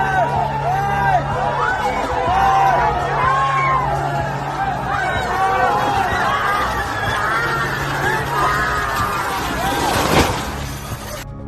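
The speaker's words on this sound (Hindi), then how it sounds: "रथ को गिरता देख श्रद्धालु जोर जोर से शोर मचाने लगे।" A large crowd of devotees shouts and wails continuously with high cries and whoops as a 100-foot temple chariot, drawn by bullocks and tractors at the Maddurammma temple fair, falls over, with a crash near the end.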